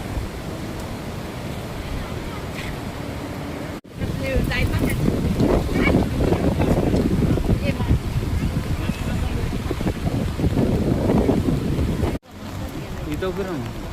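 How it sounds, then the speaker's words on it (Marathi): The Bhatsa river at Vashind rushes past in a loud continuous roar, with wind buffeting the microphone and voices talking nearby. "बघा वाशिंदची भातसा नदी"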